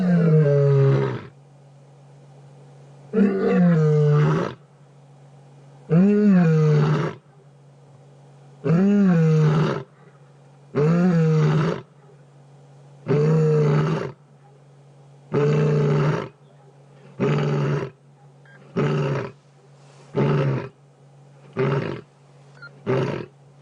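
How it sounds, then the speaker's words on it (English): A lioness calls in a long series of deep, moaning roars out in the wild, each one loud and close, the grunting calls coming in steady bursts that grow shorter and faster toward the end. "she can hear a lion calling again, definitely"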